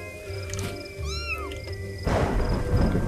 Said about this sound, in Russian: Какие-то кошки мяукают где-то.